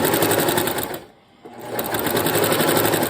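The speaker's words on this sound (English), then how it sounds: "and sew down this side" A sewing machine stitches down the edge of a quilt, a loud rapid close-up whir that stops briefly for about half a second before running again.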